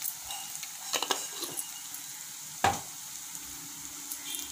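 Chili powder and turmeric sautéing in a pan for stuffed brinjal fry, a low steady sizzle broken by a few sharp spoon clinks against the pan, close and fairly quiet.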